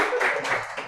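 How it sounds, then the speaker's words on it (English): Audience applause at a chess debate event in Kenya, a short, close burst of many hands clapping that fades within a second, with no voices over it. "Hand of applause, ladies and gentlemen"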